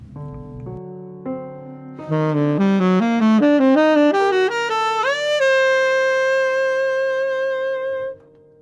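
A slow ascending Spanish Gypsy (Mixolydian flat 9 flat 13) scale of sustained, tuned notes climbs step by step, ending on a long held tone that fades out; no voices.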